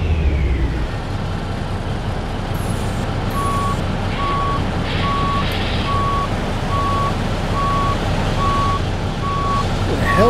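A truck in American Truck Simulator sounds a regular series of reversing beeps, each short and evenly spaced, over a loud steady diesel engine rumble.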